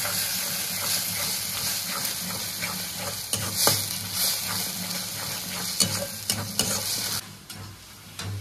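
Ground melon seed paste is stirred into egg korma frying in a pan, giving a steady sizzle and hiss with repeated scraping strokes of a spoon, close and fairly loud, with the frying dropping off near the end.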